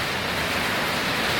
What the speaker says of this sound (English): You can hear that rain coming, jeez.